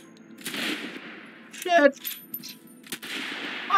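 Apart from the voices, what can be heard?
gunshots from a rifle in a video game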